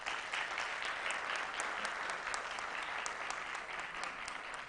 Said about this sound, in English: Thank you so much for the clap